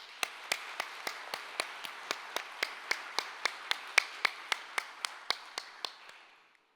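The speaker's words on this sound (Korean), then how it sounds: "여러분 큰 박수 한번 부탁드리겠습니다" At a corporate 50th-anniversary ceremony, about twenty sharp, evenly spaced claps ring out in a steady slow rhythm, each distinct against a quiet background.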